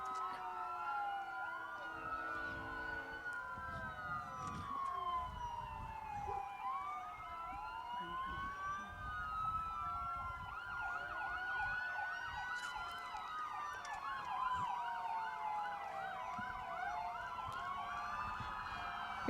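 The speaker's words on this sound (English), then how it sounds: "a lot of sirens and things as you can tell" Several emergency vehicle sirens wailing and overlapping at a small-town parade, rising and falling tones at moderate distance over a low crowd murmur.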